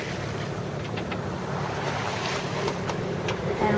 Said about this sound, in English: We are motor sailing now because the wind is still not enough